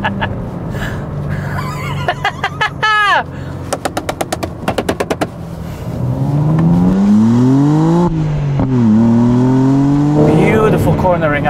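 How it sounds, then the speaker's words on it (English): A BMW M4 G82 with a manual gearbox crackles and pops sharply on the overrun in rapid bursts, then its engine rises loudly through revs as it accelerates out of a corner, close and powerful. "Cornering, accelerating out, really nice drive."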